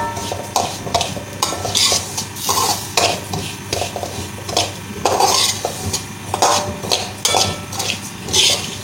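Broken wheat (dalia) is stirred and roasted in a pan with repeated scraping strokes of a spoon against the metal over a soft frying hiss. The rhythmic stirring is close and steady, and no one speaks.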